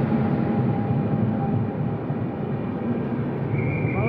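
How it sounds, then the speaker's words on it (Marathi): A railway train passing nearby, a heavy continuous low rumble with rolling rattle that holds steady throughout, and a faint high tone creeping in near the end. "रेल्वे आला"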